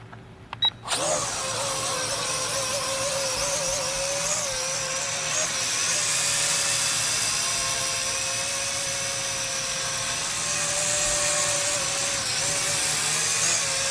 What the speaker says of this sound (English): you have to push this to launch the drone